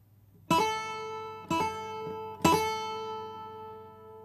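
Fiddle-tune "Devil in the Kitchen" played on a plucked string instrument with picking and left-hand hammer-ons, three ringing struck notes in quick succession that decay, close and fairly quiet with no voices.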